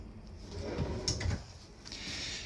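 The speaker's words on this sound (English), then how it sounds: "You've got a bonus drawer here." A kitchen drawer in a 2022 Forest River Cherokee Alpha Wolf 26RL-L travel trailer slides and bumps shut, one short close rumble with a light knock in a quiet room.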